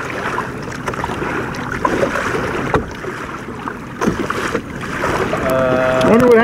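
Choppy water slaps and rushes around a Hobie trimaran sailing at Garden Cove in Key Largo, Florida, with steady close splashing and wind, and a voice is heard briefly near the end.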